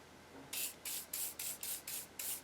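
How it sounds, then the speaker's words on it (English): WD-40 sprayed from an aerosol can onto a copper lap in a workshop, seven short, sharp hissing bursts in a steady rhythm over quiet background. "So you take the WD-40 and just spray it"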